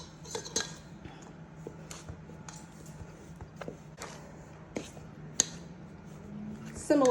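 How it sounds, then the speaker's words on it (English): A fork working cold butter into flour in a bowl for cranberry walnut honey scones gives scattered light metallic clinks and scrapes at an uneven rhythm, up close and fairly quiet, with a soft steady hum underneath. "I'm going to begin to blend the butter into the flour by using a fork"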